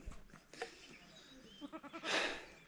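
A goat bleats in a farmyard where a kid has just been born: a few short wavering cries, then a loud, harsh, breathy bleat close by near the end.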